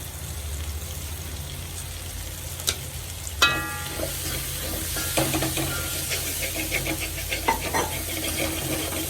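Chopped green chillies frying in a pan, giving a steady sizzle with several sharp spoon clanks and a run of crackling, spattering pops partway through.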